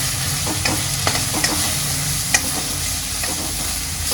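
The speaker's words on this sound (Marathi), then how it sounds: "मसाल्यांना पण चांगलं मी परतून घेते, म्हणजे त्याचा कच्चापणा नको राहायला." Ground spices (Kashmiri red chili powder, regular red chili powder, coriander-cumin powder) sautéed in oil in a pan for a cluster bean curry, giving a steady close sizzle with scraping stirs throughout, no talking.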